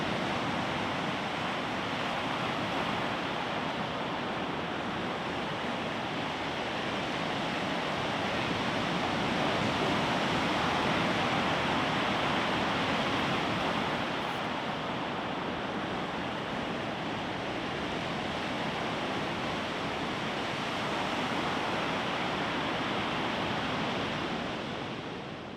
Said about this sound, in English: the sound of the crashing waves in the background